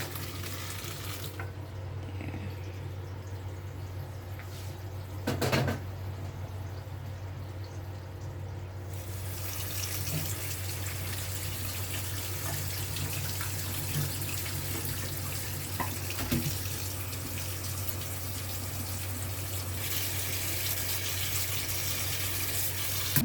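Cooked macaroni and its water pour into a strainer, a continuous rushing stream with a brief clatter partway through.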